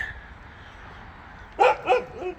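A dog gives two quick, sharp barks close by, the second trailing into a short yelp, after a stretch of quiet room noise.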